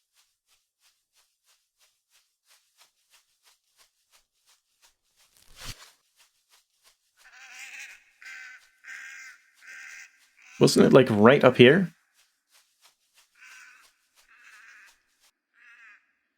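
A bird in the video game Eidolon gives a series of raspy crow-like caws in short separated bursts with one loud drawn-out call in the middle, against near silence, with a person speaking briefly.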